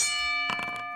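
A bell rung to start a match in a Legends of Wrestling card game, a single bright tone with a sustained ringing overtone, close and clear, briefly joined by a short rattling clatter.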